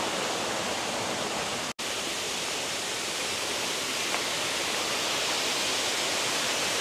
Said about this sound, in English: There's this cool water spray over here.